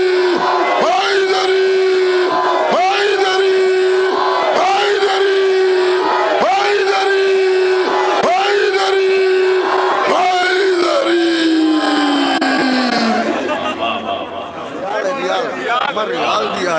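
Large crowd at a religious gathering chanting slogans in unison, loud repeated shouted phrases in a steady rhythmic call, with a lead voice driving the chant, fading into mixed chatter at the end.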